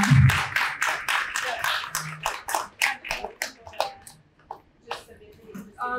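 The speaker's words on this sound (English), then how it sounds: "And another round of applause." A small audience claps after an artist talk at an arts center: a run of distinct, fairly close hand claps that thin out and grow sparser toward the end, with some voices mixed in.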